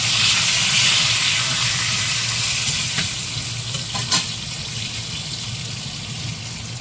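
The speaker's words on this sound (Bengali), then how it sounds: "এর মধ্যে দিয়ে দেব তেজপাতা" Bay leaf sizzling in hot oil in a pan for moong dal with bottle gourd, a dense, steady frying hiss with a couple of sharp crackles and a brief stir midway, alone and close.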